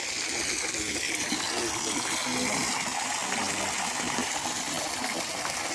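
Water flows steadily in the Alhambra garden in Spain, a continuous gushing wash that lasts throughout with no breaks.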